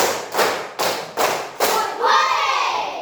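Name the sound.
children's clapping pattern in class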